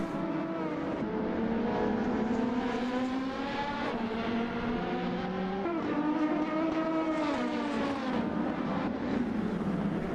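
An LMP2 prototype race car engine at Daytona in a racing video game, steady and fairly quiet, with rising and falling tonal pitch sweeps as the throttle rolls on and gears change through the banked corners.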